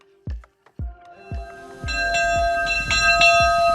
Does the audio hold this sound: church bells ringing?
yes